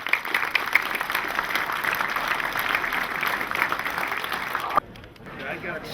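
An audience gives a round of applause for a volunteers committee at a community event, with dense, steady clapping for about five seconds before it cuts off abruptly and fades into quieter background sound.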